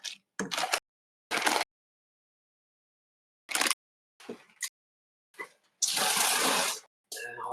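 Water pours into a cooking pot for goulash in several short separate bursts, the last one longer and louder, with silent gaps between them.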